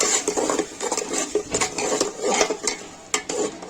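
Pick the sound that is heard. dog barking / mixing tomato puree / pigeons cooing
mixing tomato puree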